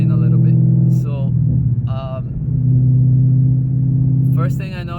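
Modified 2017 Ford Mustang GT V8 exhaust rumbling loud and close, a deep steady idle drone that dips and swells, with brief bursts of talk over it.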